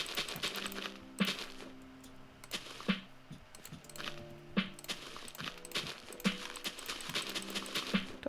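Minecraft horses clip-clop in a stable, their hooves making repeated hollow knocks in an uneven, trotting rhythm, with brief clicking game sounds mixed in, fairly quiet and close.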